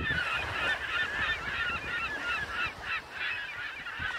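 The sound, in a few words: seagulls calling on beach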